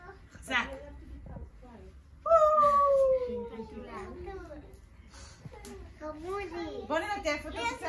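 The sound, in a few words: children imitating a cat's meow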